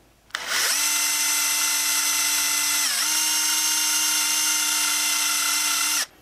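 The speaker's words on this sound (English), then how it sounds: "It drills the small hole and gets rid of the mushrooming at the same time." A drill boring a small hole with a machinist bit into a die-cast Matchbox Ferrari Berlinetta model car: a steady, loud high-pitched whine that holds for about five seconds, dips briefly partway through, then stops.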